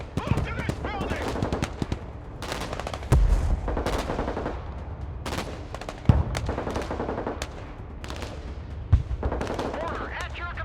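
Rapid bursts of gunfire and heavy booming shots from a modern military strategy game, sharp cracks standing out around three, six and nine seconds over a dense, continuous din of battle, with voices calling out amid the fighting.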